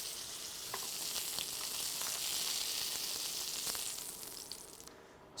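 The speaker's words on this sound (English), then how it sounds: "So now we have the steak fully seared." Steak sears in a hot pan with a steady, loud broadband sizzle and a few spatters and light scrapes, with no talk.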